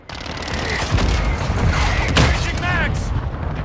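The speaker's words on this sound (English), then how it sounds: "Mortar strike inbound now." Mortar strike explosions and rapid gunfire in the video game Call of Duty Modern Warfare II, with a couple of sharp booming blasts cutting through a sustained crackle of shots, loud and close, while a voice talks over it.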